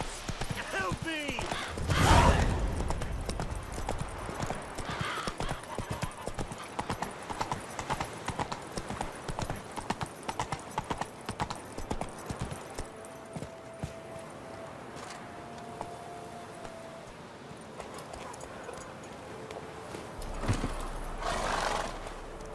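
Horse galloping in The Witcher 3, a fast continuous clip-clop of hooves with a loud neigh near the start and another near the end, over ambient game sound.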